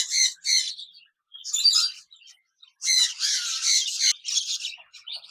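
A pair of budgerigars squawk and chirp in bursts of shrill, scratchy calls, close and loud, with short silent gaps between the chattering runs.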